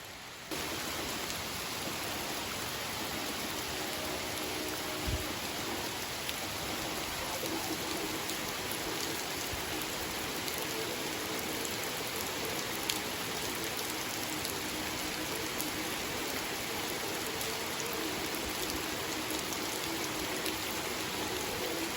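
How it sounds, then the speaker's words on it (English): Steady rain falls on the Appalachian Trail, a dense even hiss of drops on surfaces with no voices, constant and fairly close. "I'll just wait for the rain to stop"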